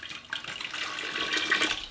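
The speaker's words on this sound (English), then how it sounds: "I'm gonna pour it in this cold water." Hot salt and brown sugar brine pours into cold water for a turkey brine, a steady close splashing and trickling stream lasting the whole moment.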